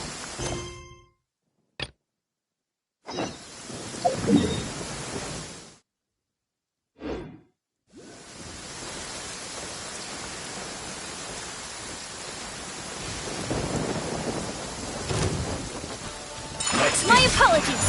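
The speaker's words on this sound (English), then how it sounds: "Let us find shelter from the rain." Rain and thunder in the video game Genshin Impact, a steady broadband wash of rainfall that swells toward the end, broken early by brief gaps and short bursts, with a few faint voice-like sounds mixed in.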